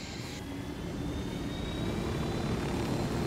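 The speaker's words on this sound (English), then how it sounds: "So we can take a plane." An airplane in a video game drones steadily with a broad engine roar and a faint high whine, growing slightly louder over a few seconds with no talk.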